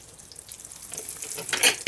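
Pea-filled choux pastry pies frying in a shallow layer of oil, giving a soft, steady sizzle and crackle close by, with a brief brighter spatter near the end and no talk.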